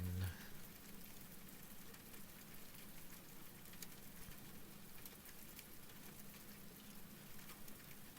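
Steady rain falls continuously and evenly, a dense hiss of drops on a surface, moderately quiet and unbroken throughout with no voices.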